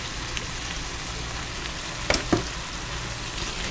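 Two cans of drained ackee tumble into a hot frying mixture of saltfish in a pan and are tossed lightly, a steady close sizzle with a couple of brief soft stirring knocks midway.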